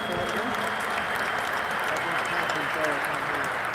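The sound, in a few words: applause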